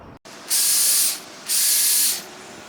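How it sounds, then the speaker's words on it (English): A knife is stropped on a Ken Onion Work Sharp belt sharpener, two separate loud, airy, hissing passes of about a second each with a short pause between them, heard close and alone. "let's go ahead and strop that"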